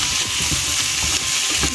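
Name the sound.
onions and green chilies frying in a pan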